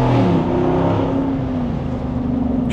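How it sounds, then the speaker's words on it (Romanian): A Jeep Wrangler Rubicon 392 with its V8 exhaust accelerates in a steady, loud low rumble that holds throughout, heard from inside the open-top vehicle. "nu știu cât de tare se aude evacuarea"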